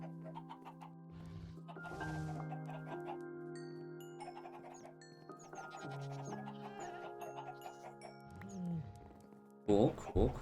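Chickens cluck in the video game Minecraft, heard as short clucks over a tonal game music background, with a louder burst near the end.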